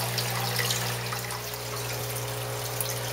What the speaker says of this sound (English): Everything just works its way through the swirl filter and down to the media filter and then back up to the pump